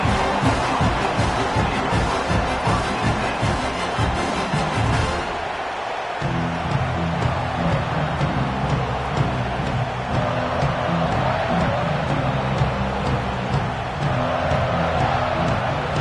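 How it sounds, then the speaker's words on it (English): A football stadium crowd roars in a dense, continuous wash of voices that stays loud throughout, with a brief dip partway through before the noise swells again. "This crowd ready to make its presence known."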